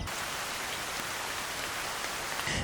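Steady rain falls on Réunion island in the east during the rainy season, a dense, even hiss that continues without pause for the whole stretch, with no voices over it.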